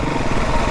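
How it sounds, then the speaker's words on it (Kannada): A motorcycle engine runs steadily and close by, with a continuous rough drone and no talk. "ಇಂಜಿನ ಸೌಂಡ್ ಚೇಂಜ್ ಮಾರೆ"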